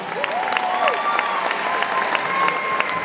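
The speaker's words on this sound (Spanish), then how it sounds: "fuerte aplauso para Juan Coveroqui." Concert crowd at The Fillmore in Miami Beach applauding steadily, a dense wash of clapping with a few whistles and cheers rising over it, close and full throughout.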